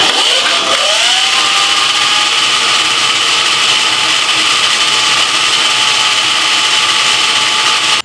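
An electric supermoto motorcycle motor, with a belt drive in sport mode, spins up with a rising whine and then holds a steady, loud high-pitched hum, running continuously close by.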